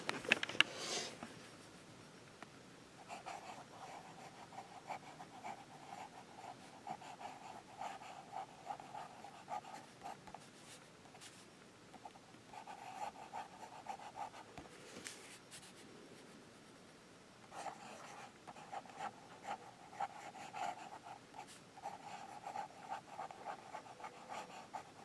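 A Pelikan Classic M205 Marble Blue fountain pen scratches across paper in close, quiet strokes, coming in steady bursts with brief pauses between words and a longer break midway.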